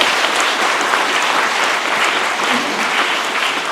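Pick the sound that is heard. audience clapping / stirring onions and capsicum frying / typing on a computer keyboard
audience clapping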